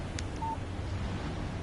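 A short electronic beep, a single brief tone, sounds as a phone text message alert in the video game Alan Wake over a hissy ambient background.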